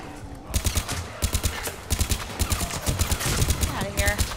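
Heavy automatic gunfire in the Mass Effect 3 video game, rapid bursts of shots that keep repeating in quick, rattling volleys, loud and close.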